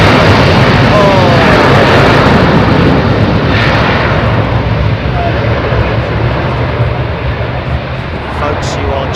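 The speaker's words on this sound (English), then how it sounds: "you are just about to have your picture filled with a Boeing 747" A Boeing 747 jet at London Heathrow Airport on a busy evening gives a loud, steady roar that fills the whole stretch, fading slightly toward the end.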